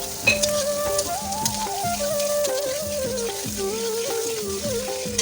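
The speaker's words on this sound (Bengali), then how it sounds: "আর দিয়ে দেবো পেঁয়াজ কুচি, তারপর ভালোভাবে নাড়াচাড়া করে দেবো।" Continuous sizzling of chopped onion frying in a pan with stirring scrapes, while background music with a tonal melody plays throughout.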